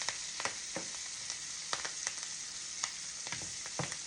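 Onions fry in a pan until translucent, giving a continuous soft sizzle broken by occasional scraping and stirring clicks, close and fairly quiet, with no talking.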